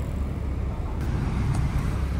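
Cars on a road in Japan give a steady low rumble of traffic, with a couple of faint brief swishes as vehicles go by.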